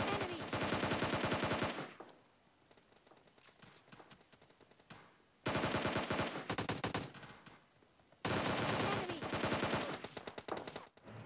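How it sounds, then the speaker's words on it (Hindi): Rapid automatic gunfire from a PUBG Mobile Lite match comes in three long, loud bursts separated by quieter stretches of scattered shots. "फाइट के बीच में ही भाई पीछे से भी कुछ बंदे फायरिंग कर रहे हैं"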